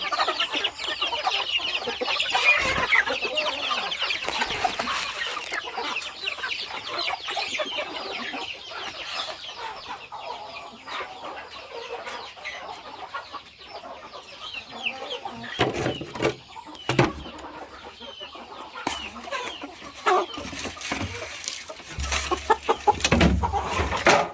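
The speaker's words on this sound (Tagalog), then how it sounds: "Special chicken." Chickens cluck busily on a farm, many birds close and continuous over a long stretch, with occasional louder squawks and scuffling bumps.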